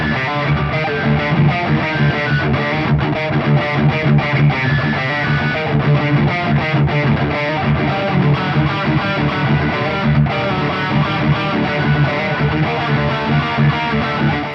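Dense, sustained distorted electric guitar playing on a PRS SE McCarty 594, loud and continuous with a gritty, saturated tone throughout.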